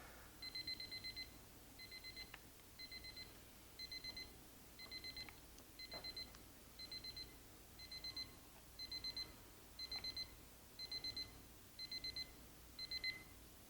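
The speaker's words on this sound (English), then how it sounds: "Now I'm getting a no probe alarm." Electronic no-probe alarm of a Thermoworks Smoke wireless thermometer beeping in evenly spaced bursts of rapid high-pitched beeps, repeating steadily about once a second, fairly faint with quiet background.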